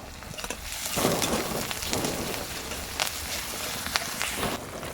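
Onions fried with turmeric crackle in a pan as ginger-garlic paste goes in, a close, steady sizzle broken by scraping stirs and sharp pops.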